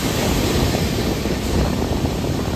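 Water rushing through a few open sluice gates of the Farakka Barrage, a steady broadband roar heard from a passing train, with wind buffeting the microphone throughout.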